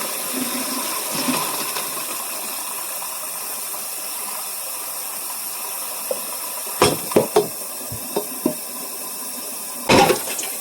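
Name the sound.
cooked rigatoni and water poured into colander in sink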